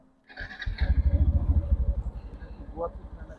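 A motorcycle rides along the road toward Bhanga across the Padma Bridge in thick early-morning fog. Its engine rumbles loud and close in a steady, throbbing pulse, with wind noise and some voices mixed in.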